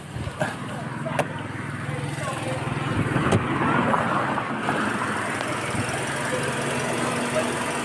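A dual VVT-i Toyota Vios with an overheating problem idles with its aircon switched off while the radiator fan roars steadily nearby, a constant broadband whoosh over a low engine hum, with a few brief clicks and faint voices.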